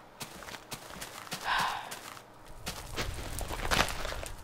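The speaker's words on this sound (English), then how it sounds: "Oh, there's a horse over there." Horse in the Minecraft video game, a few soft hoof clops and snorting breaths at close range, alone without talk.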